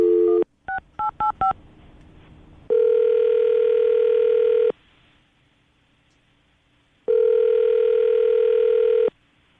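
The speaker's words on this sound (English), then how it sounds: "I'm going to dial the phone number right now." Telephone dialing: a brief quick run of touch-tone keypad beeps, followed by two long steady ringback tones separated by silence, loud and clear with no talk.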